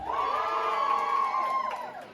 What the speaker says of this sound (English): Round of applause for Chinners.